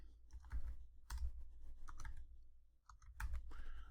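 Quick bursts of computer keyboard keys being typed during AutoCAD drafting, with short clustered clicks and brief pauses under a steady low hum, fairly quiet and with no voices.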